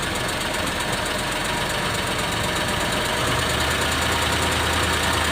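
A Suzuki F6A multicab engine idles steadily at a raised idle while cold, a continuous mechanical hum with a slight knock, rising a little in the last couple of seconds.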